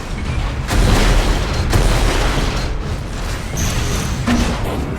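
Rocket launcher blasts in an Unreal Tournament competitive match, several heavy booming explosions with deep low rumble, loud and close over constant arena noise, two or three impacts spaced about a second apart.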